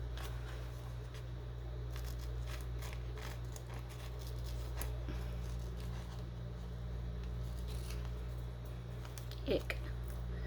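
Repeated snips of scissors cutting at an irregular pace close by, over a steady low hum.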